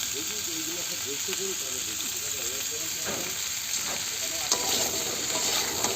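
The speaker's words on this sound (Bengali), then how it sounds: "এবার দিয়ে দেবো পরিমাণ মতো লবণ একটু ভালো করে কষিয়ে নেব" Winter vegetables fry with salt in a pan for khichuri, giving a steady, close sizzle with occasional stirring scrapes, while a voice is heard faintly over the first half.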